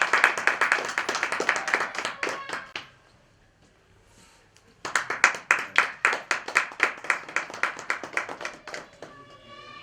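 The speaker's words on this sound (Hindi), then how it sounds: "जोरदार ताली है दोस्तों" An audience at an Indian self-employment and Ayurvedic product programme claps loudly in sharp, rhythmic bursts, breaking off into a brief quiet gap before a second strong round of clapping resumes.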